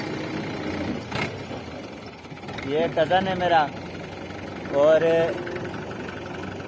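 A tractor engine idles steadily in a desert area, with a low mechanical drone running beneath nearby talk.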